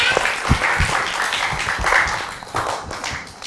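A class of schoolchildren breaks into applause for a student during an English lesson, a loud, close patter of many hands that continues unbroken for several seconds, with faint voices underneath.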